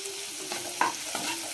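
Tomato frying in a pan with turmeric, coriander, chilli and cumin powders for an egg curry, giving a steady close sizzle with a few brief stirring scrapes and no talking.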